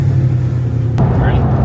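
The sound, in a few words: car engine revving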